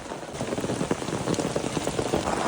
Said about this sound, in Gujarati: કિંજલ હોય તો કેટલી વારમાં ચેટલો વરસાદ આવી જાય